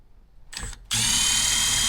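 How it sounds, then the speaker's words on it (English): A power drill whirs in a steady, loud, close burst while motorcycle handlebars are fitted, preceded by a brief shorter spin-up. "I recommend using power tools."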